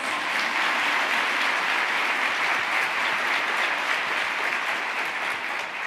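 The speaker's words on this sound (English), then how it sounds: "can you give them a round of applause?" Sustained audience applause at a women's summit, a thick, even roar of many hands clapping throughout, loud and unbroken with no voices on top.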